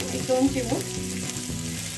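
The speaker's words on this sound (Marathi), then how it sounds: "आणि मिरची छान अशी तडतडून द्यायची आहे" Green chillies crackle and sizzle while tempering in hot oil, giving a steady close frying hiss with small pops and stirring, and a brief voice at the start.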